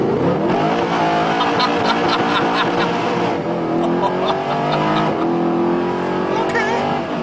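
Mercedes SLS with a 571-horsepower engine pulling hard from a standstill, heard from inside the cabin as a loud, continuous rising engine roar through upshifts, with passengers talking over it.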